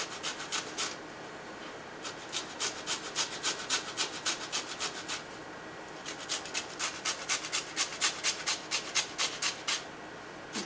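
Fresh lime rubbed against a fine grater for zest, a steady series of rhythmic rasping strokes in two bursts with a short pause between, close and fairly loud with no talking.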